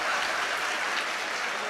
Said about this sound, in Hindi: आप अपने लिए एक बार जोरदार ताली बजाएं